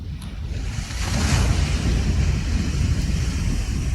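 A night sea breeze blows steadily across a beach in Kuala Terengganu, a broad low rushing wind noise with soft surf-like texture, continuous and fairly loud throughout with no talking.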